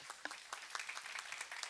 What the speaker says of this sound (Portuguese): Então, palmas para nós.